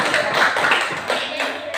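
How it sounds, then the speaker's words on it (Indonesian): Hands clap together in a school gym during a forward roll exercise, a brief patter of claps running continuously throughout, moderately loud and close. "Tepuk tangan."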